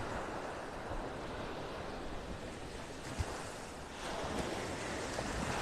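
Waves from the incoming tide wash onto a beach in North Naples, Florida, on a partly cloudy morning: a steady, fairly faint roar of surf with light wind noise and no voices.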